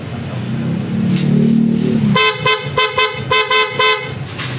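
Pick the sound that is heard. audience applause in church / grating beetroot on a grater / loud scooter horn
loud scooter horn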